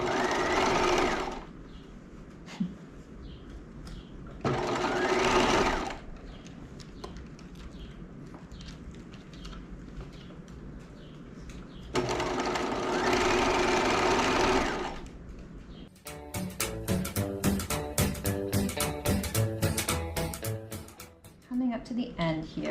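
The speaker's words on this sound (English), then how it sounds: "just stitch all the way around at 5/8 of an inch, keeping that folded under seam allowance free" Sewing machine stitching a seam at a 5/8-inch allowance on a top, running in several steady bursts with pauses between. Quieter handling noise fills the gaps, and a denser, rattling stretch of stitching comes near the end.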